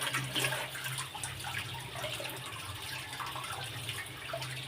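Ginger root rinsed under a running tap, a steady close splash and trickle of water with small shifting spatters, continuing throughout without speech.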